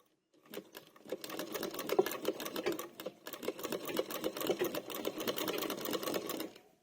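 A domestic sewing machine stitches right along the edge of a garment in a fast, steady chatter that runs for several seconds with one short pause, close and clear, with no voice over it.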